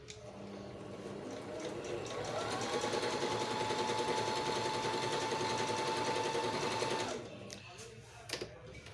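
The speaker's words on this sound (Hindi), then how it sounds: "आप इसको प्रेस करेंगे ये मशीन बैक जाएगी टांका पक्का करने के लिए।" Singer 5200 sewing machine stitching, a steady close mechanical whirr with a rapid needle chatter that speeds up and holds for several seconds before stopping, followed by a few small clicks.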